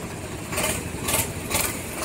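A John Deere 5310 tractor engine runs loudly and steadily nearby at a tractor market, its rough noise swelling in a few regular surges.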